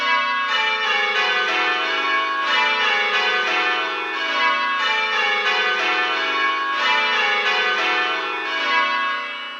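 Simulated church bells ring in continuous rounds, one bell striking unevenly with backstrokes late and handstrokes early, giving a lopsided, clashing rhythm throughout.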